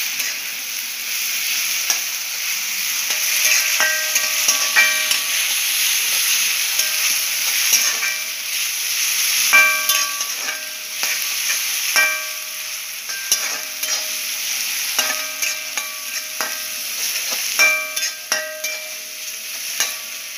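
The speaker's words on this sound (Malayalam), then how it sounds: "ചതച്ചുവെച്ച ഉള്ളി, ഇഞ്ചി, വെളുത്തുള്ളി ഇട്ടു മാറുന്നവരെ ഒന്ന് ഇളക്കിക്കും" Crushed onion, ginger and garlic sizzle steadily in a hot pan while a utensil scrapes and stirs in repeated bursts, with clear metallic clinks against the pan.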